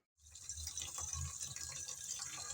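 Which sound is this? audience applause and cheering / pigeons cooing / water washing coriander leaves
water washing coriander leaves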